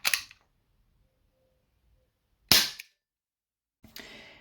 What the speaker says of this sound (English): That is one powerful airsoft gun.